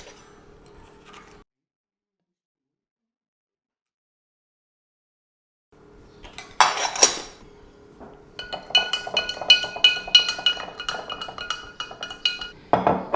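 Glass bottles clink and knock together nearby while homemade fruit sparkling wine is bottled, scattered bright taps and rattles after a long silent gap, no speech.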